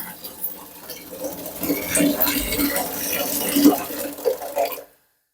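Tap water runs steadily into a bucket at home, a continuous splashing rush for several seconds that stops abruptly, with someone talking over it.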